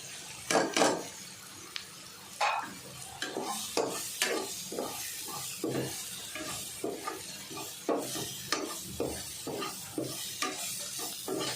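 Spoon scraping and stirring tomato and spices in a frying pan for chicken keema, with repeated clinks and scrapes in an uneven rhythm over a low sizzle, close and clear without talk.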